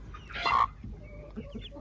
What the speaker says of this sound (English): Mama hen's enjoying.